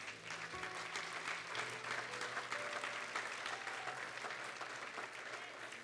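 A church congregation gives a sustained round of applause, a dense wash of many hands clapping at moderate distance, with faint voices and a soft tonal backing running underneath throughout.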